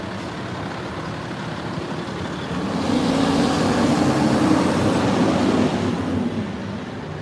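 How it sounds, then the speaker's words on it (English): Heavy trucks rumble along a busy freeway over a constant traffic roar. One louder vehicle swells up in the middle, passes, and fades again. "this is a busy freeway with all these trucks."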